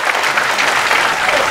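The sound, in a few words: audience clapping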